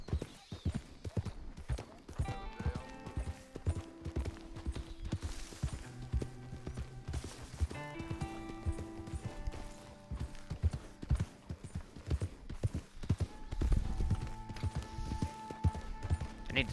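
A horse's hooves clip-clop at a steady walking rhythm in Red Dead Redemption 2, close and continuous beneath sustained tonal game music, with no speech.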